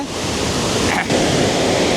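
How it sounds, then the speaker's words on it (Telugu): Tarabu (Pittala Borra) waterfall roars as a steady, loud, broadband rush of falling water, close and unbroken apart from a brief dip near the middle, with no talk. "ఇది ఫ్రెండ్స్ తరబు వాటర్ ఫాల్స్ యొక్క 360 degrees ఫుల్ వ్యూ అయితే"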